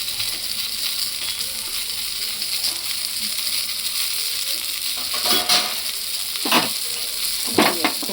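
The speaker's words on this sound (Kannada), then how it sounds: "ಒಂದು ಚೂರು ಎಣ್ಣೆ ಹಾಕ್ಕೊಂಡು ಫ್ರೈ ಮಾಡಿ" Fish fries in a little oil in a pan with a continuous sizzle, broken by a few louder scrapes and clinks as the pieces are stirred or turned.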